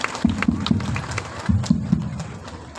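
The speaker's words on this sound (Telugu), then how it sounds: "గట్టిగా చప్పట్లతోటి అన్నగారిని ఆహ్వానించుకున్నాం" A crowd at a public meeting claps to welcome a speaker, heard as scattered, uneven handclaps in a short, fairly quiet burst in a hall.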